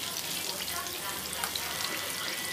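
Chicken chapli kababs fry in a pan with a steady, dense sizzle of hot oil, continuous and close, without any talking over it.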